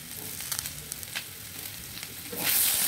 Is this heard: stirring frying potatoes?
yes